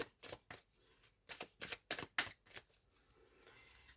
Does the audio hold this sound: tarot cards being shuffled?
yes